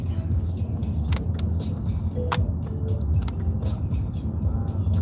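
Road traffic rolls past on an overcast day as a steady low rumble, cars passing close by, with faint ticking on top and no clear talking.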